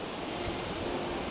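Ocean surf and wind along the Meloneras seaside boulevard in Gran Canaria form a steady, dense wash of noise with no distinct breaks or voices.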